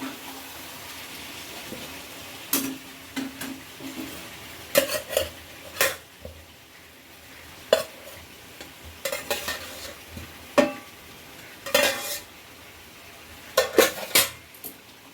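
A spoon stirring fried potatoes into a Bengali-style chicken curry in a pan, with repeated scraping and clinking strokes over a soft sizzle, close and intermittent, no talking.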